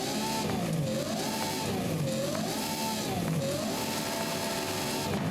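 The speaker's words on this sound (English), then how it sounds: "And then this V12 hybrid." A V12 hybrid engine in the Forza Horizon racing game revs loudly and steadily, its pitch swelling and falling in repeated waves, with no talk over it.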